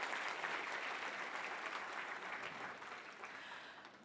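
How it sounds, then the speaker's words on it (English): A panel audience applauds to thank a departing speaker, with quiet, steady clapping that fades gradually toward the end. "let's have a round of applause to thank him for joining us this morning"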